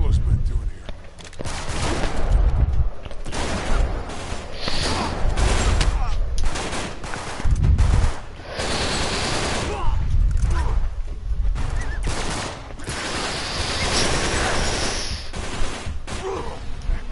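Shotgun blasts and bursts of gunfire crack through a combat scene in the video game Uncharted 3, loud repeated shots over game noise and voices.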